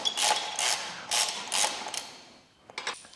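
Ratchet wrench loosening and tightening the mounting bolts of Mosko Moto Backcountry panniers on a Ducati Desert X motorcycle, giving several rapid clicking bursts in a steady rhythm, close and clear.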